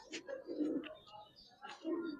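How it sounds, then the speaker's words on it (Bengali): A silver Giribaz pigeon gives two soft, low cooing phrases, faint and close, separated by a short pause. "এই বেজি কবুতর।"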